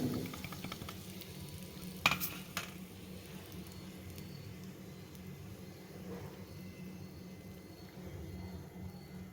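Papaya dal curry with moong dal is stirred in a pot: soft, wet squelching mixing with a sharp clink of a spoon early on, quiet and close, no voices.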